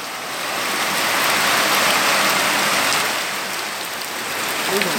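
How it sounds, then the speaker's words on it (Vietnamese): Hail falls hard and steadily, a dense, loud hiss and patter that swells and eases slightly without pause, with no voices over it. "mưa đá nguy hiểm quá"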